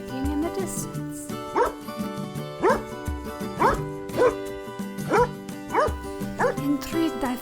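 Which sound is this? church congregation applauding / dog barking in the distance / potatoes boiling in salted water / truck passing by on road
dog barking in the distance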